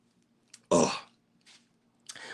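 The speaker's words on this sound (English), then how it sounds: "Let me just take a little drink, clear my throat." A single short, forceful throat-clear bursts out after a faint lead-in, followed by a softer rasp and another brief vocal noise near the end, close and clear with no talking.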